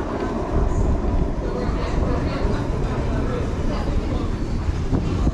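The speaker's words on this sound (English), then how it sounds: "1854 London Underground service, that sounds really weird, to Elephant and Castle from Harrow and Wealdstone" A London Underground Bakerloo line train bound for Elephant and Castle from Harrow and Wealdstone, giving a steady, loud rumble of wheels and motors throughout, with voices faintly present underneath.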